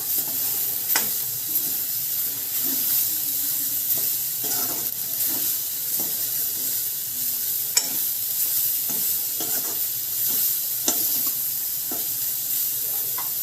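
Soya chunks and vegetables are stirred in a pan over a gas flame, a steady sizzle of frying running throughout with scraping spoon strokes at irregular intervals, close and fairly loud, no voices.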